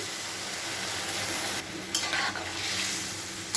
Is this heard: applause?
no